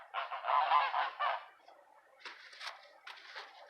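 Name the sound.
geese honking in a garden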